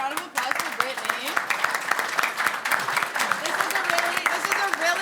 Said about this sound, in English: let's give a round of applause for Brittany